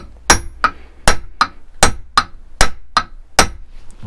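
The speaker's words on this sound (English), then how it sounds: "hammer the screwdriver in again to sort of make the shape" Nine sharp metallic hammer strikes ring out close by in a steady, slightly uneven rhythm, each blow short with a brief ringing tail, driving a screwdriver into a screw while refurbishing Suzuki GT750 forks.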